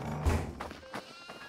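A goat in the dark horror video game Devour lets out a bleat, followed by a few softer thuds and calls at moderate loudness with no talking over it.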